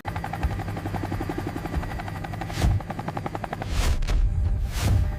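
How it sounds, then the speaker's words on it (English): A military helicopter lifting off from Asadabad base in Afghanistan at night, its rotor thumping in a steady rapid beat with the engine roaring louder in surges, close and with no voices. "their helicopter lifted off from Asadabad base into cold, anticipation-filled night air"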